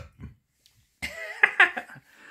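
A short throaty cough or two, followed by a rough, voiced burst of throat sounds, close and fairly loud after a brief quiet gap.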